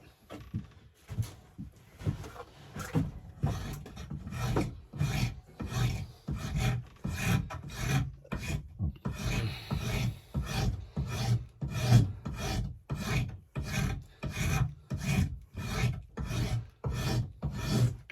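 A hand file rasps along a rusty axe head in steady back-and-forth strokes, roughly one or two per second, close and crisp, continuing rhythmically for the whole stretch.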